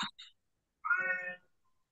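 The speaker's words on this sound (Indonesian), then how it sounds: "Ini ada kucing lagi berantem." Cats fighting give a short pair of chirping cries, then a single drawn-out, strained meow after a pause, fairly faint with nothing else around it.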